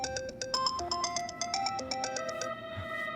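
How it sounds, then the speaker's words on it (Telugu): A mobile phone ringtone plays loudly: a bright electronic melody of quick repeating tones that runs continuously for a few seconds, with no voices over it. "Ring tone."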